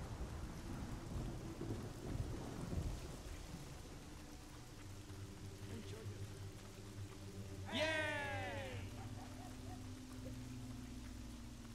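Steady rain and low rumbling thunder in the video game Fable Anniversary, heard faintly as a constant wash, with a brief creature cry near the end.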